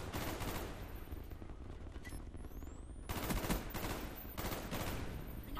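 Gunfire from a weapon in Call of Duty: Black Ops, heard as dense rapid bursts that pause briefly and then resume loud and close.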